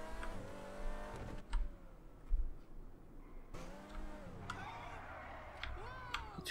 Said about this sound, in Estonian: Tõime korra minna linna ja vaadata, mis auto teeb.